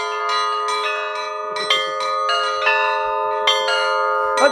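Church bells in Suzdal rung by hand at close range, several tuned bells struck in a lively repeating pattern with sustained overlapping tones and periodic louder strikes.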